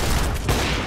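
A Roblox shotgun fires in a dense, noisy blast that fills the short moment, with a second punch midway, close and loud with no talk over it.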